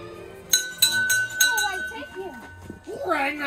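A small bell at the Land of Oz theme park rings in a few bright, clear strokes that ring out briefly, followed by people talking close by.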